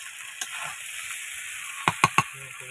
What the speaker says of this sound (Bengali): এই যে এবার ঝোল দিয়ে দিচ্ছি